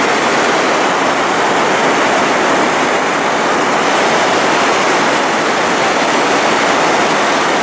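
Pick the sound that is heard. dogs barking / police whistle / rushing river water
rushing river water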